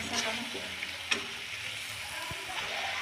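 Tomato masala for dhaba-style egg curry fries in a pan, giving a steady close sizzle with occasional stirring scrapes and clinks.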